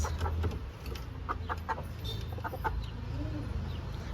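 A rooster clucks and murmurs nearby in a fairly quiet farmyard, with soft scattered chicken sounds and faint background noise.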